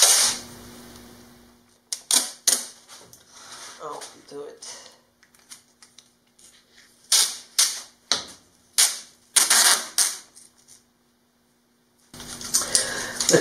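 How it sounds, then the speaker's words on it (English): Clear packing tape pulled off the roll in loud ripping bursts and pressed down while building an RV pet travel bed, close, with several separate pulls and quiet gaps between them. "Next step is to use some clear packing tape."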